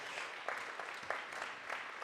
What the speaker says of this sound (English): Why don't we give everybody a round of applause